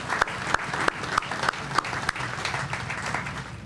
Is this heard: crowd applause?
yes